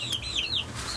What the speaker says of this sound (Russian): Цыпки, которые утка вывела.